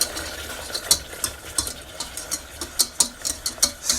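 Vegan cream sauce is stirred in a hot pan as it thickens, with a soft bubbling sizzle and a run of quick, regular spoon scrapes and taps against the pan, close by, with no voices.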